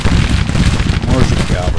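Musket gunfire crackles across a battlefield in the American Civil War strategy game Grand Tactician: The Civil War, a loud, dense burst of shots and booms.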